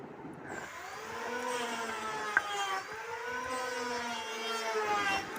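A kitchen mixer grinder whirs steadily as it grinds cumin seeds to powder, a close, continuous motor hum with shifting pitch and no voices.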